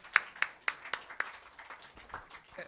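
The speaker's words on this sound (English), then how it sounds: "I think he deserves yet another clap." An audience at a carbon-focused conference in Nairobi, Kenya, claps in a few sharp, distinct hand claps that fade into softer, scattered clapping, with no talking.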